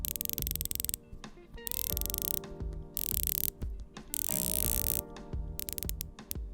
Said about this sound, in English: Let's do the old ASMR of the bezel insert here.